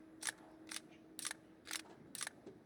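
Weapon reload in The Division 2, a series of five crisp, evenly spaced metallic clacks and clicks with a low steady hum underneath, no one speaking.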